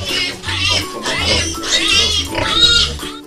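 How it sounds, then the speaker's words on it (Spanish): Young pigs on a farm squeal and grunt loudly and nearly nonstop at close range, with overlapping high-pitched cries. "Se dedica a la crianza de cerdos y debido a su corta edad debe alimentarlos con leche."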